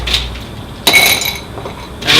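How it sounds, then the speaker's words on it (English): Ice cubes clink and rattle into a glass for a White Russian cocktail, with a sharp clatter near the middle and brighter chinks at the start and end, close and clear. "and then we're going to ice this one up"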